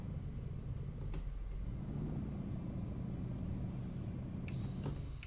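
A Kamaz truck engine in Euro Truck Simulator 2 pulls away in gear with a steady low rumble, laboring as if under a heavy trailer load, fairly quiet and continuous.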